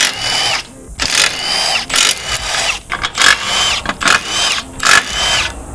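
An impact gun loosens 16 mm subframe bolts on an MK8 Golf R, giving loud whirring bursts in quick succession with short pauses between them, up close.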